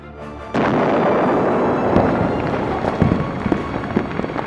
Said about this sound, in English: That was the significant spreading consequence of a fireworks factory blast in Esparto, California.